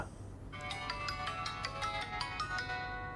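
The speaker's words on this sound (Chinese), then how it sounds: "大伟怎么这个点给我打电话？" A phone ringtone plays a bright, repeating electronic melody, steady and clear, with no voices over it.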